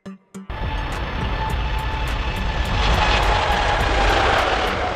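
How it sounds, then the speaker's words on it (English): Boeing 747-8F cargo airliner, the freighter version of the 747-8, roaring with a loud, steady jet-engine rumble that swells slightly toward the end after a brief clatter at the start. "The Boeing 747-8F, launched in 2010, is the cargo version of the 747-8"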